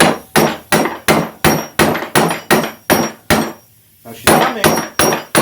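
Repeated hammer strikes drive a rusted bolt on a rear trailing arm of a 2004–08 Grand Prix, about a dozen sharp, close metallic blows in a steady rhythm with one brief pause, and a voice speaks briefly.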